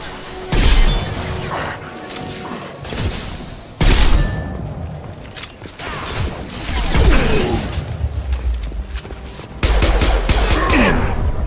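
Heavy gunfire in the sci-fi shooter Mass Effect 2, loud rapid bursts and booming impacts with crashes and shattering, continuous and dense across the clip, with a few short pauses before fresh volleys.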